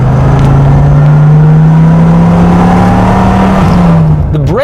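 A Dodge Viper sports car drives on the road, its engine holding a loud, steady low drone from close inside the cabin before a brief rising rev near the end.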